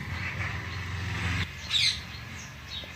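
A sharp parrot call rings out briefly after a background rumble cuts off, followed by a couple of fainter, distant squawks.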